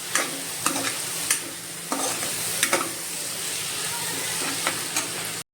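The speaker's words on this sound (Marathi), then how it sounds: "मी दोन मध्यम साईजचे टॅमॅटो पण टाकलेत आणि थोडंसं मीठ टाकते म्हणजे ते चांगले टॅमॅटो भाजले जाते" Two medium tomatoes with a little salt fry in a pan, giving a steady soft hiss broken by periodic scraping taps as they are stirred; no voices.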